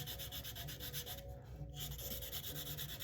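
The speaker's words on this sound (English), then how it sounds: "shape of the wood of the instrument where I'm sanding" Steady, rhythmic scraping of a sanding block faced with dense rubber foam rubbed back and forth across the wood of a Washburn bass guitar neck, close up and continuous, with a brief lighter pass in the middle.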